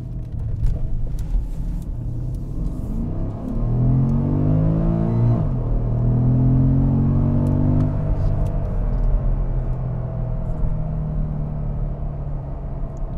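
2013 Porsche Panamera GTS with a 4.8-liter V8 driving, a deep steady engine drone that rises in pitch as it accelerates, then settles into a constant rumble with road noise.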